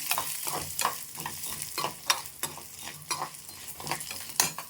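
Tamarind frying in a pan for neem flower chutney, with a spoon repeatedly stirring and scraping over a steady sizzle, close and fairly loud.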